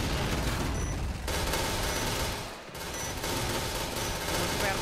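Sustained, dense automatic gunfire in the video game Point Blank during a competitive match on the map Downtown, rapid bursts continuing with a brief lull midway, loud and close, with faint voices underneath.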